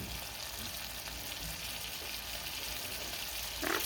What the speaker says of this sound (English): I need some frying action.